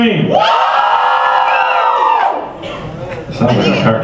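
Comic convention voice actor panel crowd screaming to vote, a loud burst of yelling and whooping from many people that dips briefly, then swells again.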